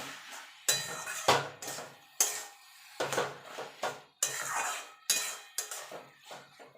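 A spatula scrapes and knocks against a pan while stirring vegetarian cabbage curry with green chillies, a series of distinct metallic strokes separated by short pauses, close and clear, without speech.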